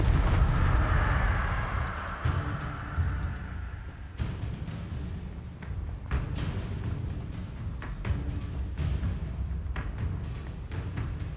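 Spell effects from Hogwarts Legacy, including the Incendio fire spell, burst in rapid succession over a dense rumbling low end, with sharp cracks and booming impacts throughout, loud and continuous.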